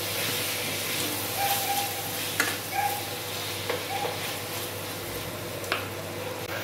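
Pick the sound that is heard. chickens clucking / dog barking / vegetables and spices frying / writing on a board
vegetables and spices frying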